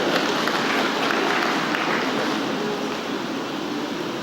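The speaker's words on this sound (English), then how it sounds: "Please, another round of applause for Evangelist Aki today" Audience at a security summit applauding, a dense, steady wash of clapping filling the room, loud and sustained before easing slightly toward the end.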